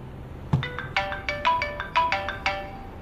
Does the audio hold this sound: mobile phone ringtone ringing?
yes